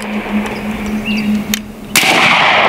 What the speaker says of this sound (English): Full auto burst on the dry fire once again there.